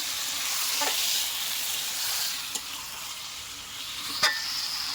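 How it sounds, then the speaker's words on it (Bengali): Chicken meat fries in a pan with a continuous hissing sizzle, broken by a few sharp clicks of stirring utensils against the pan. "মাংসটা দিয়ে দিলাম। এবার সুন্দর করে নাড়াচাড়া করে নেব।"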